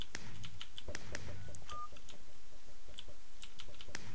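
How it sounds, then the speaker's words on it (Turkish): Push-button telephone dialing tones, a quick series of short beeps in an uneven rhythm over constant background noise during a modded Minecraft session. "Bir ara bir telefon sesi giriyor."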